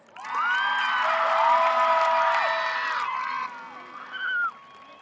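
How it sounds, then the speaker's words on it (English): A graduation crowd cheers and whoops loudly across several seconds, with shouts rising over a steady roar of voices and a brief spike near the end before it subsides. "Let's give ourselves a round of applause."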